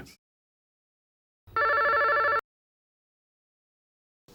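A telephone rings once during a Bengali TV drama, a single electronic trill lasting under a second, clear and close, set between stretches of silence.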